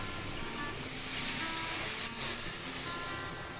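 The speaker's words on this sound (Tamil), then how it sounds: "தண்ணி ஒரு 1/2 டம்ளர் ஊற்றி வேக விடலாம்." Half a glass of water poured into a hot pan of cooking bitter gourd, producing a loud, steady hissing spray that swells briefly in the middle and then eases off.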